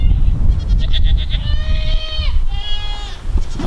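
Goats bleat on a farm where cows are also kept, several wavering cries close by and loud over a steady low rumble of wind.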